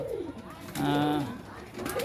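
Pigeons in a new loft, a couple of short low coos, close and clear, with brief rustling around them.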